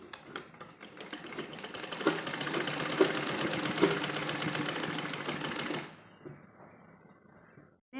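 Sewing machine stitching the shoulder seams of a baby dress, a steady close whirring run of about six seconds that stops, followed by a quiet tail.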